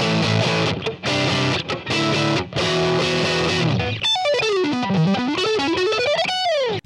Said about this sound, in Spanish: Es momento de añadirle un poco de distorsión usando este mismo pedal